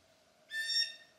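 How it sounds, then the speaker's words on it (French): A falcon somewhere along a forest trail in the Estrie region cries out with a single short, high, plaintive call heard at a distance against a quiet background. "il y a de l'air à avoir un faucon qui se lamente"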